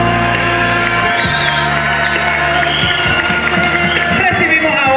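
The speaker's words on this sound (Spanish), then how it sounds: "Aplausos." Crowd applause and cheering greet a carnival queen candidate at her press presentation, loud and continuous through the whole stretch, with music tones and voices mixed underneath.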